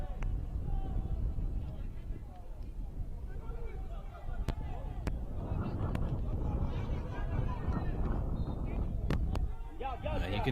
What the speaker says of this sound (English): You can hear that wind in the background as it keeps gusting at higher velocities.